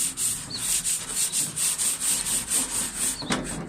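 Coarse 80 grit paper on a hand block rasps back and forth along the edge of a Peugeot 206 bonnet. Steady, rhythmic scraping strokes come close and loud, about four per second, with no talking.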